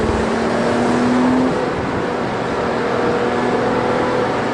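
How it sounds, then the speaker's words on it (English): The flat-six engine of a 2009 Porsche Boxster 3.4S drones steadily from inside the car on the road, a continuous loud hum with a faint whine, no talking. "That noise from that flat 6 is absolutely epic."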